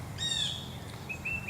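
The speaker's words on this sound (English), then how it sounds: "Guess you can hear the birds chirping." Birds chirping outdoors near a big pine tree, a bright trilling call followed by a few short high chirps, moderately near over a soft background hum.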